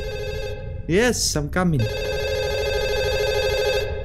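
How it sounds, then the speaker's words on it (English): Telephone ringing in a horror video game, steady electronic rings running through the clip, with a voice briefly speaking over it. "There's a phone ringing."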